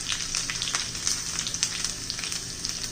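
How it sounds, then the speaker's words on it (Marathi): Mustard seeds, cumin and garlic frying in hot ghee in a small tadka pan: a steady, bright sizzle with rapid crackling pops, close and continuous with no voices. "तडका पॅन मध्ये मी तूप गरम करण्यासाठी ठेवलेले आहे. तर हे पहा, मोहरी,"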